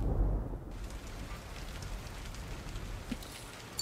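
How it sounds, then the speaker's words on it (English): Heavy rain pours down in a steady, soft hiss at moderate distance, with a few faint drips and taps and no voices. "And enjoy the rain."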